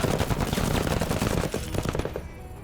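Rapid gunshots crackle in a dense, continuous burst in the video game Menace, loud and close, tapering off toward the end with no talk.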